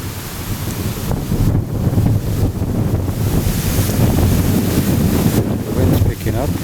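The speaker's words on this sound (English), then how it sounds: "The wind's picking up." Strong gusty wind buffets the microphone outdoors on a hill, a loud continuous roar with surging gusts and no clear talk.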